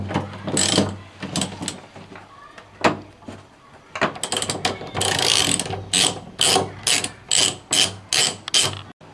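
Ratchet wrench loosening nuts on heat-shield studs of a VW Passat 35i during a handbrake cable change, with loud close-up clicking bursts and a rapid run of rhythmic ratchet strokes in the second half, and no talking.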